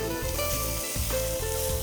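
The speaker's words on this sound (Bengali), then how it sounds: "যেহেতু আমরা গ্রেভিতে কুক করব সো আমি এটা অত বেশি ভাজছি না কম ভেজে তুলে নিচ্ছি" Prawns frying in a pan for a gravy dish give a steady, close sizzle of hot oil that runs unbroken through the short stretch, with no talking over it.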